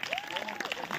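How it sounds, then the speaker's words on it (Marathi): Applause for Vaibhav at a hypnotism show in Hatakangale, a brief burst of crowd clapping with a voice speaking over it. "वैभव साठी जोरदार टाळ्या होऊन जाऊ द्या"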